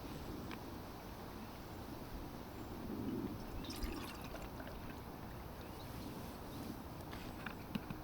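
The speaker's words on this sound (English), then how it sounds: "So I'm going to measure the water." Water is measured out and poured for camp coffee at a wild campsite, a faint, steady trickle with soft splashes beneath outdoor ambience and occasional light knocks.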